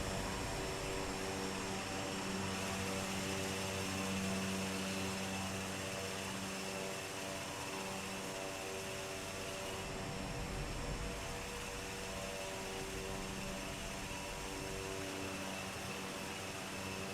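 ATR 72 turboprop taxiing in Microsoft Flight Simulator 2020, a steady faint propeller and engine drone with a constant tonal whine, unbroken and without speech.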